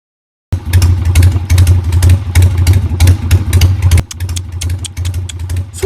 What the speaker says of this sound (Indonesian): Suara motor anak laki-laki David memang beda ya.